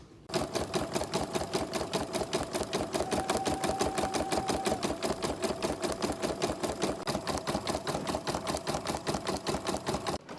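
An embroidery sewing machine stitching an appliqué shirt, a steady, fast mechanical rattle of needle strokes running continuously for about ten seconds, close and fairly loud with no talk.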